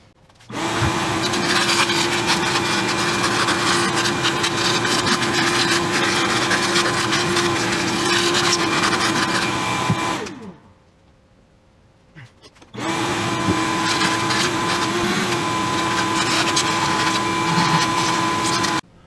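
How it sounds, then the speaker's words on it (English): A vacuum cleaner sucks debris off an LS V8 engine during a lifter replacement. A loud, steady roar runs for about ten seconds, cuts out for a couple of seconds, then starts up again. "So let's start vacuuming"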